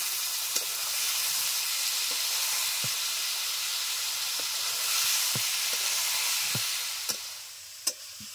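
Potatoes fry in oil-rich spice masala in a wok, giving a steady loud sizzle and hiss with occasional sharp scraping taps of a stirring spoon against the pan.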